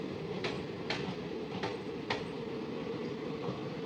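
A crowded Howrah–Jaynagar passenger train rolls along the rails with a steady rumble. Rhythmic clickety-clack wheel knocks ring out at fairly even intervals over the continuous noise.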